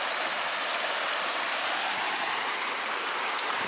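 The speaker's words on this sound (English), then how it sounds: "Nice little creek." Small mountain creek rushing over granite in the Desolation Wilderness, a steady, close, full-bodied hiss of flowing water with no pauses.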